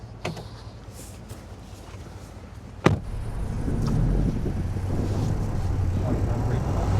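A Toyota Tacoma engine accelerating on an off-road pull, with a low idle, then a sharp knock followed by a rising, sustained roar of revving mixed with rough wind buffeting.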